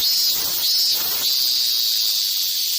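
A human voice imitates the shrill summer drone of cicadas, a high hissing buzz in three pulses, the last drawn out and sustained, close and fairly loud.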